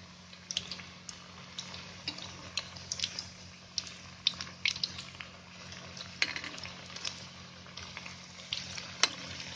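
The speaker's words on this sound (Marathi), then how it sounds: "हे वडे आहेत ना मीडियम गॅस करायचा आणि चांगले आहे ना भाजून घ्यायचे ब्राऊन होईपर्यंत" Rava medu vadas fry in oil over a medium flame with a steady close sizzle and frequent small crackling pops throughout, quiet and continuous, with no speech.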